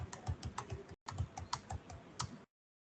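Array elements typed on a computer keyboard, a quick run of close, light key clicks in two short bursts separated by a brief pause, with no voices.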